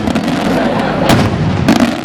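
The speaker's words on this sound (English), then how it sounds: "in Malta, real fireworks have to be loud" A loud fireworks display at a Maltese village feast, with dense, continuous booming and crackling bursts that roll into one another at close range.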